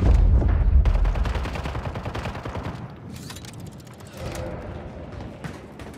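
Rapid bursts of gunfire ring out during a Call of Duty zombies match, loud and dense at first, then thinning into scattered shots and mechanical clicks.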